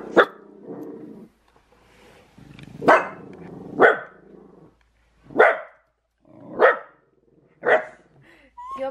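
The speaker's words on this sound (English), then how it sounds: "Look, it's a dog out there." A dog outside barks in a slow series of about seven loud, distinct barks with short gaps between them, some with a growly edge.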